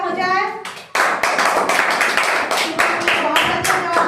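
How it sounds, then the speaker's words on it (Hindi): Classroom clapping for a student named Shubham: a burst of children's hand claps starts near a second in and keeps going steadily, close and fairly loud, after a brief stretch of a voice at the start. "शुभम के लिए तालियां हो जाए।"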